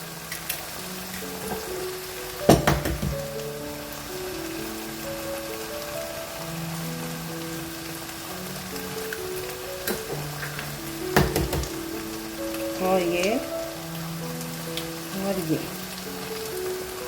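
Minced keema frying on a high flame as eggs are added to the pan, a steady crackling sizzle running throughout with a few louder clattering bursts and faint background sounds.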